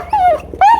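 A German Shepherd whines in two close, high, drawn-out cries, loud and near, with no talk over them.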